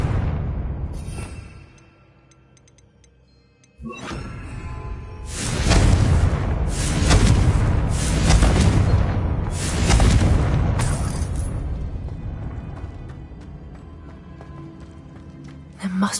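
A Confringo blasting spell goes off in a Harry Potter video game, a loud booming explosion with whooshing bursts that swell and then fade into a long rumble. A voice speaks at the start.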